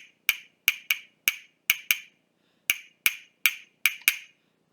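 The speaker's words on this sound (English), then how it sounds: "hitting this part against here makes that sound. And that's how we get the sound out of a castanet." Hard plastic castanet, two plastic shells held together by string, clacking in about eleven sharp, close, loud clicks, some in quick pairs, separated by brief silences.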